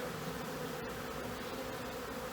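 Honey bees buzz in a dense, steady drone at close range while frames are moved from a single long hive into a double long hive, with no speech.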